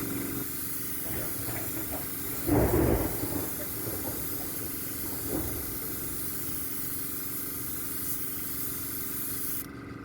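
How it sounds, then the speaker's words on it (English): An Iwata airbrush lays a mist coat of gloss enamel on model railway parts, producing a continuous airy hiss with a couple of louder spray bursts, close and without talk. "Let's do another mist coat."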